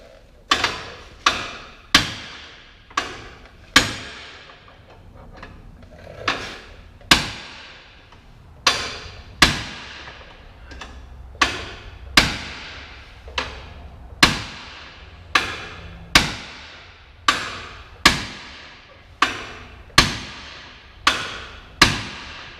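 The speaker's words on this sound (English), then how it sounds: "I'm trying to beat on it with this pry bar and hammer here." Hammer and pry bar beating on a stuck control arm bolt of a third-generation Ram 2500 truck, a long series of sharp metallic strikes at an irregular, steady pace, close and loud with short ringing decays.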